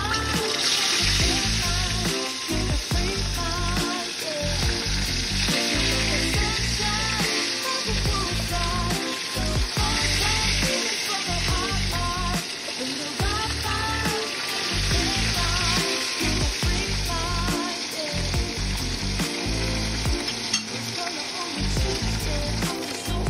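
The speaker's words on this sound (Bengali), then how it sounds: "মাছ ভাজা আমার কমপ্লিট, এবার মাছগুলোকে তেলে রাখবো" Fish pieces for dahi katla sizzle steadily in hot oil, a loud dense frying crackle running throughout with occasional stirring scrapes and no voices.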